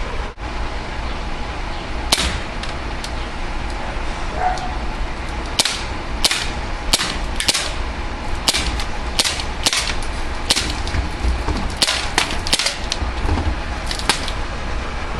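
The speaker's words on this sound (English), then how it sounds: "I'm gonna go ahead and do a shooting test for you guys." An Umarex Walther PPK/S CO2 air pistol fires a long string of sharp, snappy shots, some spaced out and others in quick runs, close and loud, with no talking.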